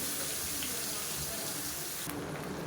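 Water runs from a tap into a mixer grinder jar as it is rinsed, a continuous splashing gush that changes tone near the end.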